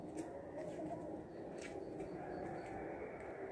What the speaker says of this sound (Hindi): काएं चिड़ियाँ परिंदे चहचहा रहे हैं